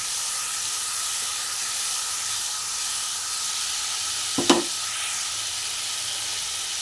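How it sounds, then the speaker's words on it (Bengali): Fish curry masala with a splash of rinse water sizzles in a pan as a low, even hiss, with one brief louder scrape or clank of stirring near the end and no speech. "ওই বাটি ধোয়া জলটাও আমি এর মধ্যে দিয়ে দিচ্ছি দিয়ে ভালো করে কষিয়ে দিচ্ছি"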